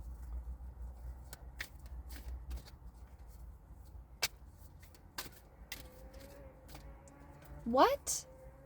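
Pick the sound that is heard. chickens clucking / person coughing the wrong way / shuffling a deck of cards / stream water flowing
shuffling a deck of cards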